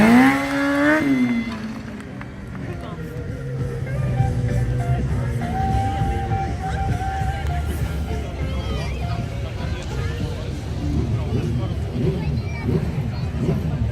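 A 2010 GSX-R 1000 sport motorcycle revs hard in bursts during a stunt show, with loud throttle blips rising and falling over crowd babble and a commentator's voice on a public address.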